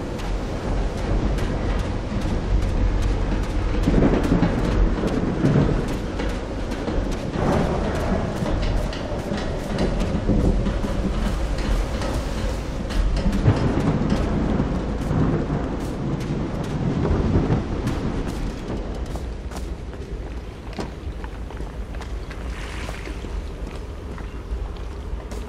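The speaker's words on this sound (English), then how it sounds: "When I was a child, I used to cover myself with sheets to not listen to the noise of thunder." A steady, heavy roar of rain and rolling thunder fills a thunderstorm in the video game Call of the Sea, continuous and loud throughout with low rumbles swelling and fading.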